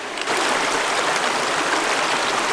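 A mountain stream in an Alpine valley rushes over a rocky riverbed, a steady broadband roar of water that is loud and close and runs unbroken with no voices.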